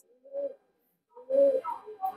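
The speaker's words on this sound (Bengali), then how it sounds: "ভিউয়ার্স একজোড়া আছে 35 কবুতর" Pakistani pigeons, a pair among a loft of teddy-type birds for sale, coo softly at close range, a short murmur followed by a pause and then a longer throaty run of rolling coos, with no voices.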